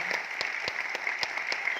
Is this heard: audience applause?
yes